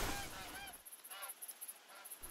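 Geese in the hunting game theHunter: Call of the Wild give several loud honks in quick bursts, then a pause and a few more honking calls alone, with no talking.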